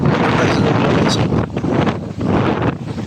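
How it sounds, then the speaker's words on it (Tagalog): Strong wind by the sea in the Philippines buffets the microphone in loud, continuous gusts, with roaring low rumble that swells and dips over a few seconds. "At saka may hangin din naman siya, pero hindi ganun ka press ngayon."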